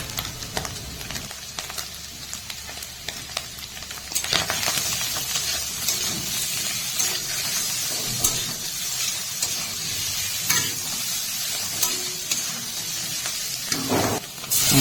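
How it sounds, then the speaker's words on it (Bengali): Potatoes and spices frying in oil in a pan, a constant close sizzle with intermittent stirring scrapes and knocks of a spatula, growing louder partway through; no voices. "আলু হালকা করে ভাজা হয়ে গেছে"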